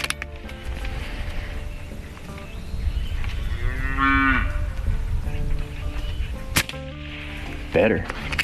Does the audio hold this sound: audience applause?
no